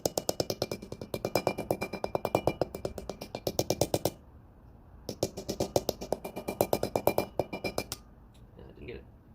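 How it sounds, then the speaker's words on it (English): Rapid, rhythmic metallic tapping of a hammer on thin tin on a 1992 Ford Club Wagon E150 front brake, bursts of quick strikes with short pauses between, close and ringing. "I took a hammer and very carefully, because this is tin, just go around very softly"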